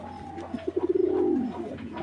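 Caged racing pigeons, a pair with a Belgian-bred hen, give a close, throaty coo that starts as quick pulsing throbs and swells into one long rolling note, with no talk over it.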